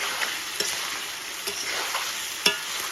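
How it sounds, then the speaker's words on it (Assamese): Whole garlic cloves fry together with chicken meat in a pan, a close, continuous crackling sizzle punctuated by a few sharp spatters and stirring clicks, with no voices. "আকৌ এবাৰ এতিয়া মই ভাজি লৈছোঁ নহৰুকেইটা দিয়া পিছত মাংসৰ লগত"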